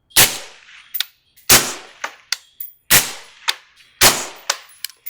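Suppressed rifle shots through Rhino S and Vanish suppressors, from 16-inch bolt and semi-auto rifles and a 12-inch piston gun. Four loud, close reports come at a steady interval, each with a decaying tail and followed by a lighter metallic clank.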